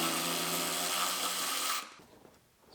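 A power tool runs steadily while bolting the front of a truck seat to its floor tracks in a rolled-over Chevrolet Silverado being rebuilt, then stops abruptly, leaving quiet shop background.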